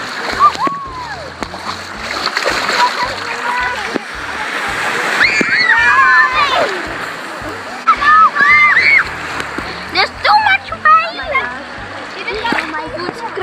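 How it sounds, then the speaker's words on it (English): Ocean waves washing over the feet on a beach, loud sloshing and splashing water that swells and recedes, with people, including a child, talking and exclaiming over it. "Getting washed out by the wave."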